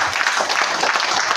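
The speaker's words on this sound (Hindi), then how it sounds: "सबसे पहले तो इन लोगों के लिए बहुत बहुत गजब की तालियां।" Crowd in a coaching class applauding together, a dense continuous wash of many hands clapping, loud and close, brief and steady.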